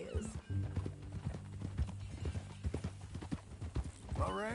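Horse hooves clip-clop in a steady, brisk walking rhythm in a Western ranch video game, close and clear, with a short neigh at the start and another near the end over light background music.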